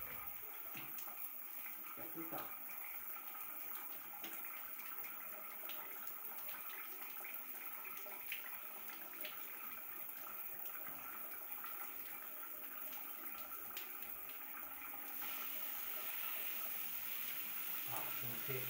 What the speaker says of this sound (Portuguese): Agora vamos pressurizar a água, vamos ligar o aparelho.